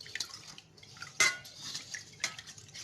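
A metal spoon stirring a lemon ice pop mixture in a dish, with light scraping and several sharp clinks against the container, close and fairly quiet.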